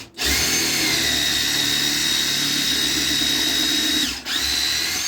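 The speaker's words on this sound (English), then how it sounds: "let's go ahead and let's sink our drill" Close and loud, a power drill whines at steady speed as it sinks into a board, running continuously for about four seconds with a brief dip near the end, no talking over it.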